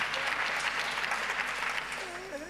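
An audience at the SISTA Summit 2023 applauds the women who co-founded and organised the event. The clapping is dense and steady throughout, with a voice coming in briefly at the end.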